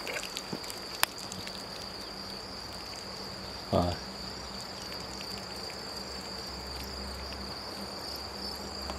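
Crickets at a farm keep up a steady high chirring throughout, with a brief knock and a faint voice partway through.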